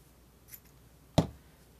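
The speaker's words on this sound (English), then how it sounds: "let me cut this shorter." Scissors snip the loose end of crochet yarn while a mesh beach cover-up tunic is being finished: one crisp close cut, preceded by a faint light click, in a quiet room.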